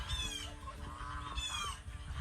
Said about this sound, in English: I'm being chased by geese.